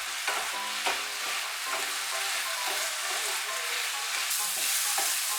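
Potato peels fry in a pan over high heat for a Bengali aloo khosha bata, a steady close sizzle with stirring scrapes throughout, no voices.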